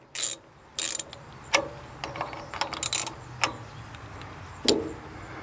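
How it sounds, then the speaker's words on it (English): Wrench clicking as nuts are snugged down to hold the cutting bar on a DYNA Products cutting system, short ratcheting bursts and scattered metallic ticks at uneven intervals, close by and moderately loud without speech. "I'm just going to snug these up a little bit so our bar doesn't move."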